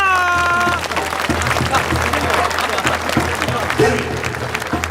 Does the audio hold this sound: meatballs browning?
no